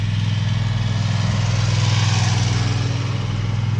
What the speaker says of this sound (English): You can see the mowers